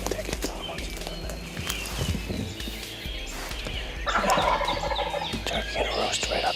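A wild turkey gobbles in the woods at dawn, with several rolling gobbles, the strongest in the second half. Rustling movement and faint, low human sounds sit close by under the calls.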